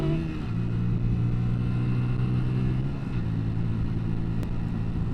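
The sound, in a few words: Hyosung Aquila GV 125 motorcycle accelerating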